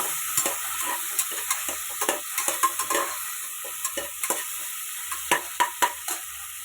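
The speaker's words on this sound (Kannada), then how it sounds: "ನೋಡಿ ಈ ಥರ ಚೆನ್ನಾಗಿ ಫ್ರೈ ಆಗಬೇಕು ಟೊಮೊಟೊ ಎಲ್ಲನೂ" Tomatoes frying in a pan while a spoon stirs them: a soft continuous sizzle punctuated by many sharp, close clicks and taps of the utensil against the pan, with no talking.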